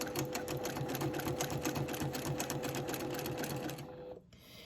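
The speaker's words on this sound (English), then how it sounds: "we're just going to stitch very slowly over the top of our existing stitching" A sewing machine stitches slowly in free-motion quilting with a ruler, retracing existing stitching, giving a close, steady rapid needle rhythm that runs continuously before stopping near the end.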